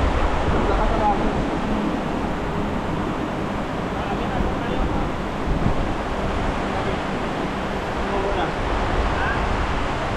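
A strong river current rushes steadily and loudly up close, a dense broadband roar with no pauses and no talk over it.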